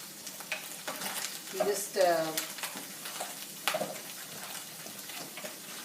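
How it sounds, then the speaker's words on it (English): Mushrooms frying in butter in a pan for a vegetarian lasagna, a steady close sizzle with stirring scrapes, while a voice speaks briefly over it. "As you see, the mushrooms are cooking."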